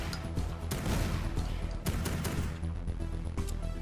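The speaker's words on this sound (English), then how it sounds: "I'm partial to the single barrel shotgun" Single barrel shotgun fire in the video game Project Warlock, several loud booming blasts in quick succession over dense game noise and music.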